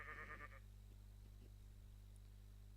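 A questing ram sheep in modded Minecraft lets out one short, fairly loud bleat at the start, followed by a low steady hum with faint quiet ticks.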